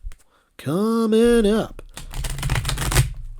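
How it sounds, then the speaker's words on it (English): Tarot cards shuffled by hand up close: a brief voice comes first, then a dense, rapid riffling crackle runs for about a second and a half, loud and near. "we are going to go ahead and shuffle our tarot cards."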